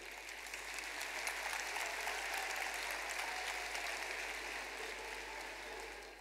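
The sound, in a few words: audience applause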